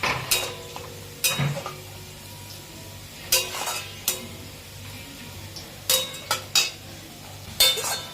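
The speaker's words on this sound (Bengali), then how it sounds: "মশলাটা যাতে পুড়ে না যায় সেই কারণে আমি একটু জল দিয়ে দেবো, দিয়ে ভালো করে কষে নেব তেল ছাড়া অবধি।" Spice paste fries in a pan for a mutton kosha, with a low steady sizzle under repeated scraping and clacking strokes of a spoon against the metal, coming in irregular bursts close by.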